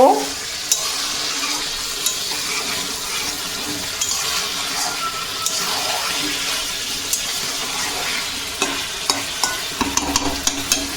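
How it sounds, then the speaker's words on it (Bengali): Mutton stir-fried in oil for kosha, with a continuous close sizzle broken by scraping strokes and small clicks of a spoon working through meat and bone. "এদিকে চলছে কষাই পর্ব"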